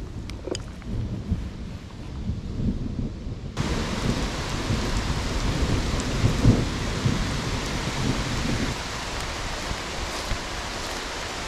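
Heavy rain pours down on a river during a fishing outing with a rumble of thunder underneath. The downpour suddenly intensifies partway through into a loud, dense, steady roar that continues to the end.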